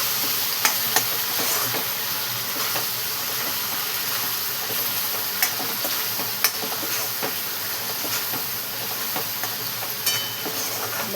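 A prawn and potato curry with coriander, garlic and ginger paste is stirred in a pan, giving a steady hiss and sizzle broken by scattered light spoon taps and scrapes, close up and with no talking.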